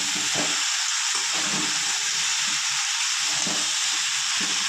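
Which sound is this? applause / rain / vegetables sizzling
vegetables sizzling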